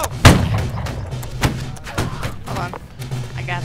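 Musket volleys from the Holdfast: Nations at War video game ring out as several sharp, booming cracks spaced irregularly over a few seconds, one especially loud near the start, with excited voices talking over the shots.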